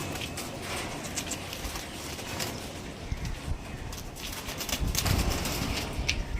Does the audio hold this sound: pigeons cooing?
yes